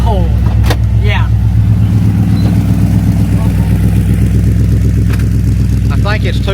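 A 1984 square body pickup truck engine idles loudly and steadily up close, its low rumble throbbing evenly throughout while people talk briefly over it.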